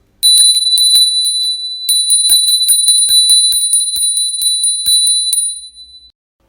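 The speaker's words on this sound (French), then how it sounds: "je te fais teinter la cloche" A small bell rung repeatedly in an invocation ritual for white magic, bright clear metallic strikes in quick bursts with ringing overtones, close and loud, briefly pausing mid-sequence before a final run that fades out.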